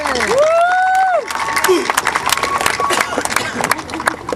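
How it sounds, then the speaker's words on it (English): A graduation crowd applauds and cheers for the class of 2013, with a whoop rising over loud, uneven clapping that continues with sharp individual claps close by. "Please give yourself a round of applause."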